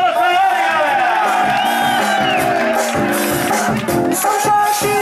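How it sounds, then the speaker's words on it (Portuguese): Crowd cheering and whooping at a birthday party in São Paulo, loud excited voices shouting together over music, with little distinct clapping audible. "uma salva de palmas pra ele, galera!"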